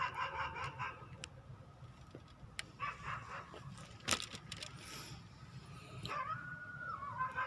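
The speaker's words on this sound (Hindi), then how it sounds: "कुत्ते की बार बार चिल्लाने की आवाज़ भी, भौंकने की आवाज़ आपको आ रही है" A dog barks repeatedly in short, sharp bursts at mid distance, with roosters and chickens crowing and clucking in the background over a steady outdoor hum.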